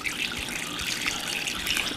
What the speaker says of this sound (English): So we're just gonna pour the whole container.